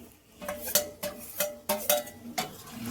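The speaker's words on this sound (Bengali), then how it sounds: "একটু নাড়বো" A spoon scrapes and knocks against a pan while dhoka curry is stirred, a series of sharp metallic taps and scrapes in an irregular rhythm, close and fairly quiet.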